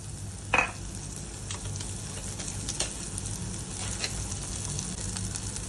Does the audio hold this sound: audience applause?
no